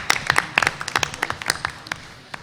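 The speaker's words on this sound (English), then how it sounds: "Let's give Stephen a big round of applause" Applause at a school board meeting comes from a small group, with distinct individual claps in an uneven rhythm that thin out toward the end.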